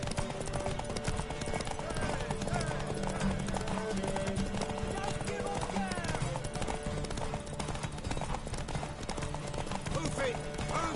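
Horse hooves galloping in The Witcher video game, a fast steady clip-clop that runs throughout under game music and shouting voices.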